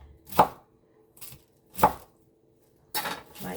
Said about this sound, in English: Not sure if cutting cabbage is soothing for some